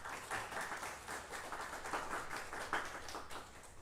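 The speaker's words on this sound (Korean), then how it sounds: "여러분 박수 먼저 한번 하겠습니다" A worship gathering at a university chapel claps together, soft and somewhat distant, with individual claps in a loose, uneven rhythm across the clip.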